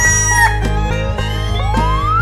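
A chicken clucks and crows in a run of close, loud calls over steady background music in a children's animal-sound cartoon game.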